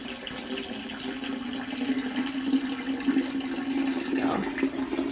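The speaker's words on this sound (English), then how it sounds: "So you can see all is pouring in here. That is going into the buckets." Freshly pressed wine streams from a wine press into buckets, making a steady trickling, splashing pour that runs continuously at moderate volume, with no talking.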